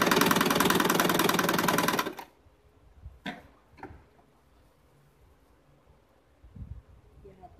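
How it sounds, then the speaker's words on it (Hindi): A sewing machine stitching fabric to cover a zipper on a bag made from leftover cloth, running in a fast steady whir for about two seconds, then stopping to leave faint handling noises. "ऐसे हम यहाँ पर सिलाई बना लेंगे।"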